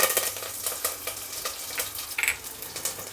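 Curry leaves with mustard and cumin seeds sizzling in hot oil or ghee, a dense crackling hiss with sharp spits and pops throughout, close and steady, no voices.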